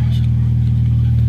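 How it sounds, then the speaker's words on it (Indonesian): A cold Toyota Vios Type G sedan engine idles at high revs, a steady, loud, low mechanical drone holding a constant pitch throughout with no starting crank audible. "Nah ini mobilnya kita hidupin"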